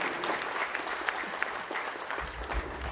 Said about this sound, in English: If I ask you to applaud, what would you do?